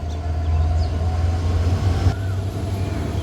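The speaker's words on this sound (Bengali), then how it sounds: "পাশে যে ট্রেনটি থ্রুপাস করে যাচ্ছে এটি পঞ্চগড় থেকে ছেড়ে আসা ঢাকাগামী ট্রেন নম্বর সাতশত আটান্ন আন্তনগর দ্রুতযান এক্সপ্রেস" The Drutojan Express intercity train passing through Abdulpur Junction, a loud, close, steady low rumble of rolling wagons and wheels that holds for the whole stretch.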